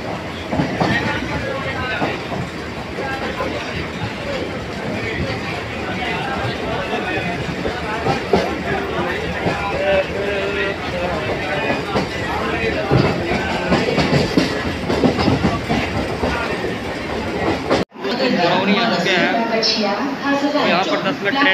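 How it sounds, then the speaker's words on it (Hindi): A passenger train in Bihar, India rolls along on its rails with a steady rumble and clatter across the whole span, under close conversation and background chatter, and the sound shifts briefly near the end. "यहाँ पर 10 मिनट ट्रेन रुकेगा, उसके बाद ट्रेन चलेगा।"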